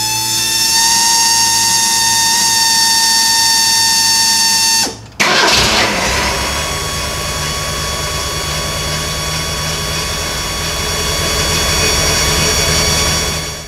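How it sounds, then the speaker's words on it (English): A loud Holley electric fuel pump in a fuel-injected Ford Pinto with a Holley Sniper EFI, a steady high-pitched whine that cuts out briefly partway, then resumes as a sustained drone, with no talking. "this Holley fuel pump is loud. It is so loud that when I give people rides, they almost inevitably ask me"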